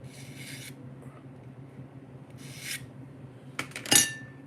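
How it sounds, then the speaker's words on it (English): A Magna Cut steel knife blade is honed with a small hone: a few brief raspy strokes, soft and close, separated by quiet gaps and followed by a louder scraping burst near the end. "I've had to hone it off once, like just with this little."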